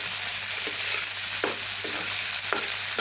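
Bitter gourd and prawns fry in a pan while being stirred, a constant close sizzle broken by a few distinct scraping stirs.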